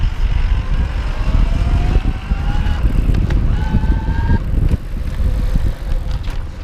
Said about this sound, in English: You can kind of hear the whir ramping up.